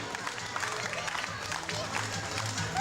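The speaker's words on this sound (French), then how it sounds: "On peut l'applaudir aussi." Many hands clap in steady applause for a boys' sports coach during a French club's thank-you speeches, moderately loud and continuous, with voices mixed in.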